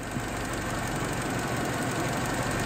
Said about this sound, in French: le moteur tourne très bien